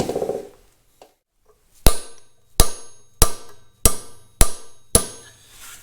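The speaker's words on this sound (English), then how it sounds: "There, we flattened the big metal lock." Six sharp, ringing hammer blows strike a metal lock tab flat during a Caterpillar D2 crawler tractor rebuild. The blows come about every half second, loud and close, each with a brief metallic decay, after a quiet start.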